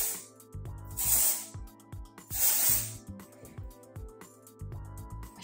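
A can of hair spray gives two distinct hissing bursts aimed at the hair roots, close and fairly loud, with quieter rustling and handling sounds between them.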